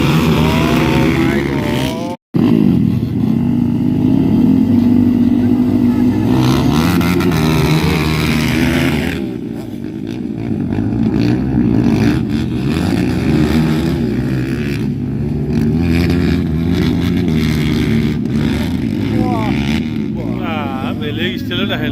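Six dirt bikes lined up at a race start at a festival, engines droning and revving loudly together in a continuous roar, with a voice talking over the noise.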